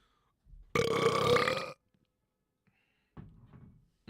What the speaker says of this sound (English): My burps are always so disappointing